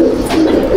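Pigeons in a loft give a short, close coo, a single low throaty burr lasting under a second with no talk over it.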